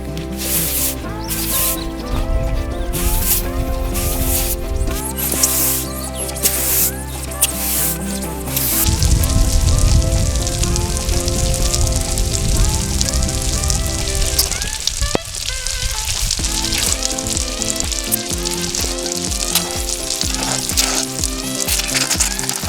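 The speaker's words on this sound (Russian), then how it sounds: "Идет дождь" Rain falling steadily across an insulated slab-foundation construction site, a dense continuous hiss and patter on surfaces, loud and close throughout with layered tonal background sounds.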